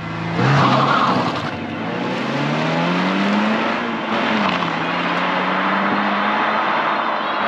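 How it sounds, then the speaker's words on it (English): A 2023 Subaru BRZ sports car drives steadily with a loud, continuous engine note that rises and falls through gear changes, with some tire noise, heard alone without talk. "This week I'm driving the 2023 Subaru BRZ."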